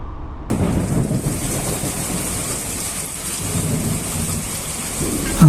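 Steady rain pours down on a Kerala coastal road, with low rumbling thunder rolling continuously underneath and a brief louder burst at the very end; no voices.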